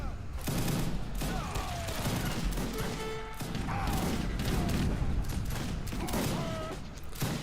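Dense bursts of rapid gunfire rattle almost continuously against heavy cavalry in Age of Empires 3 Wars of Liberty, with game-like whooshes and tonal effects layered over the shooting.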